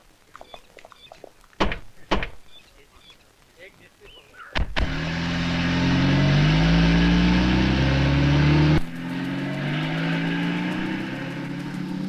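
A car door or two thuds shut, then a car engine starts up and runs with a steady, fairly loud rumble for several seconds before the tone shifts. Faint voices are present in the background.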